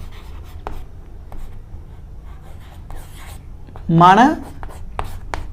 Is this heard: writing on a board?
yes